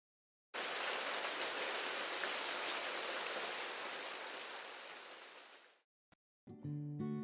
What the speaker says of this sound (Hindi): मॉनसून का मौसम, हल्की हल्की बारिश